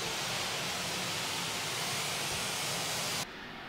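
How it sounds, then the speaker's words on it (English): Steady broadband hiss of a pink noise test signal plays evenly through a church's sound system, then cuts off abruptly near the end, leaving a quieter background. "After our pink noise test"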